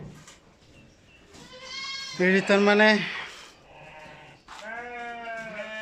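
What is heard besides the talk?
goats and sheep bleating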